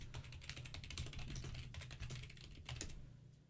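A microphone picks up typing on a computer keyboard as a fast, steady patter of light key clicks, close and continuous for several seconds over a low background hum.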